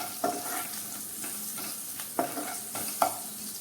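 Eight to ten curry leaves crackle in hot oil over a low flame, a tempering for sev khamani: a soft continuous sizzle broken by a few sharp pops and stirring scrapes, close by and without speech.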